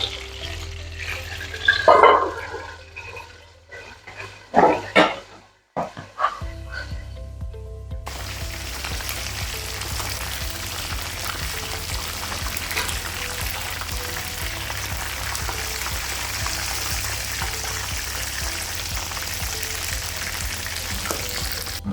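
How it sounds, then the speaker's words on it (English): Chicken frying in a pan gives a steady, loud sizzle and crackle that begins abruptly after some handling clatter and continues unbroken for about fourteen seconds. "Let me fry it so that I'll finish on time."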